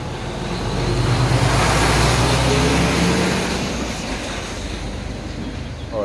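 A heavy truck rumbles past on a road, its noise swelling to a loud broadband roar at close range and then fading away, with traffic noise continuing underneath.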